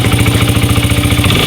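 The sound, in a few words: 1982 Honda XR80 motorcycle engine starting on first kick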